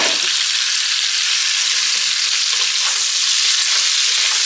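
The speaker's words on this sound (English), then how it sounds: "And add in our vegetables." Vegetables hit a hot pot of browned beef short rib drippings and butter, giving a loud, continuous sizzle and frying hiss that holds steady throughout without speech.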